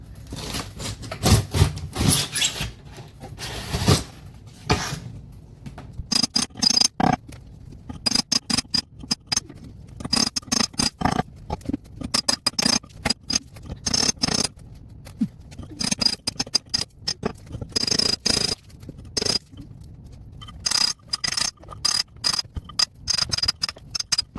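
A chisel works around a basement window frame set in a cinder block foundation, producing rapid, irregular scraping and chipping strikes close up, continuing in dense bursts with brief pauses throughout.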